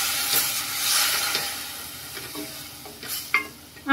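Tomato puree goes into a pan of onions frying for a corn masala vegetable gravy, giving a steady loud sizzle with spoon stirring and scraping throughout, brief bursts of hiss near the end.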